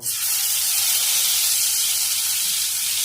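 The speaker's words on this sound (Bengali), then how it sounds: "যে মাছগুলো বাকি আছে সেগুলো একই রকম ভাবে ভেজে নেব।" Steady, loud sizzling and hissing of tangra fish frying in hot oil, continuous throughout with no voices.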